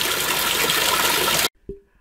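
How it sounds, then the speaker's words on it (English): Running water in a Zen garden pours in a steady loud hiss, then stops abruptly, leaving near silence and one faint drip. "have the feeling of my disappointment soothed by the sound of running water"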